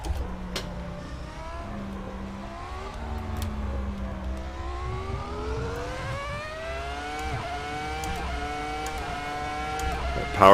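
A Ferrari F2004 Formula One car in the Assetto Corsa racing game, its high-pitched engine climbing through the revs with quick gear shifts and brief dips, loud and close throughout.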